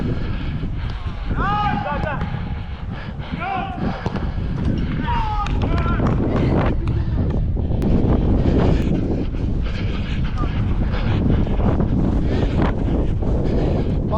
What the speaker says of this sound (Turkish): rüzgar bize doğru esiyor aman diyeyim.